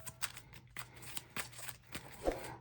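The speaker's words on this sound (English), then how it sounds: "shuffle 10 cards from that new pile into the encounter deck" A deck of playing cards for the Marvel Champions card game is shuffled by hand, a series of soft, close riffling bursts repeating in quick rhythm, quiet and with no talking.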